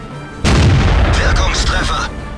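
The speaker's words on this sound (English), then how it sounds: "So I stop and I shoot." A World of Tanks cannon shot booms loud and close, a heavy blast whose roar and rumbling echo fill the rest of the moment.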